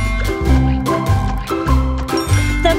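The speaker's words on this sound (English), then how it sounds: "The clock struck five." Bright chiming tones ring out in a repeating pattern of clear bell-like notes over a bouncy music backing in a children's cartoon song, marking the clock striking in a Hickory Dickory Dock nursery rhyme.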